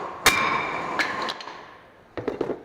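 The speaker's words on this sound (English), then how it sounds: "Or if you need to, tap it on the back with a hammer." A hammer taps the back of a rusted front brake rotor on a 2007 Hyundai Santa Fe, giving one sharp metallic strike, two lighter ones, then a quick cluster of three or four ringing taps close by.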